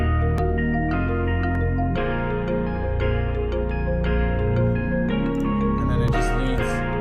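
Layered hip-hop beat melodies built in FL Studio, a flute line over synth bass, play together continuously and loud with steady rhythmic hits, no voices.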